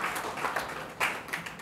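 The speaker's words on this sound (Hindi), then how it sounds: "जोरदार तालियों के द्वारा स्वागत राजवीर जी का" Scattered audience clapping welcomes a student at a school lecturer coaching session, a modest, uneven patter of hands heard close for a short stretch.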